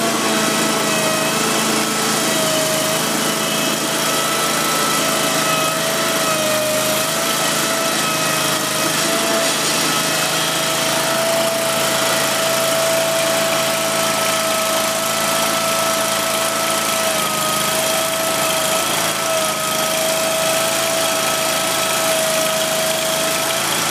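A Dingo compact loader carrying a Harley rake attachment runs at a steady high-pitched drone throughout, with a faint whine wavering as the rake is raised and no talking.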